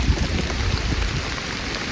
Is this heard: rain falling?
yes